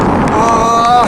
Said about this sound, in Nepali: क्या शीतल हावा क्या होइन यो पुलमा